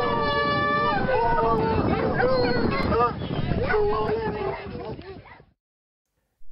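A hunting-party effect with dogs barking and yelping among horses, played as a dense layered burst of barks and whines that fades out after about five seconds.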